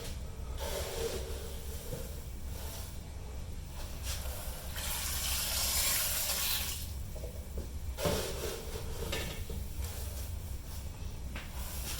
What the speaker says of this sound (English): about 20 pounds of grain going in